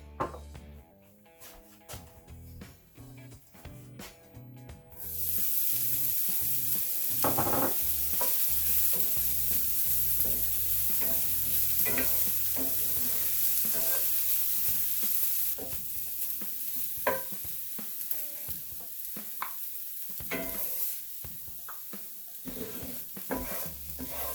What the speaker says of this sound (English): I just have some bacon grease that I'm going to saute my ramps in just very quickly